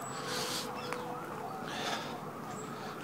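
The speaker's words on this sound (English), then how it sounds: "There is a lot of police sirens this morning." Police car sirens wailing in the distance over a morning street, a steady faint rising and falling tone with a low background rumble, without nearby talk.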